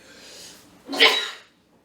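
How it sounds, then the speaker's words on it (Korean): A single harsh cough from an adult during a spoken prayer broadcast, one short burst near the middle, close and fairly loud, preceded by a soft breathy exhale. "이 기침은 목이 타서 나오는 기침음을 여러분이 기억하시기 바랍니다"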